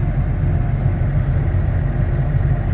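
A tractor engine idles steadily in front of a barn during a blizzard, giving a continuous low, even rumble at close range with no talk.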